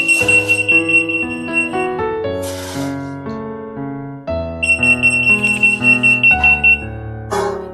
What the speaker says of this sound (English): Start our EAS system.